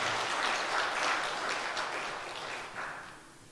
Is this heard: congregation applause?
yes